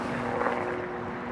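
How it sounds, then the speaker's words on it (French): A helicopter passes overhead as a steady distant drone with a constant rotor hum, fairly faint and with no other sounds over it. "C'est pas un drone, c'est un hélicoptère"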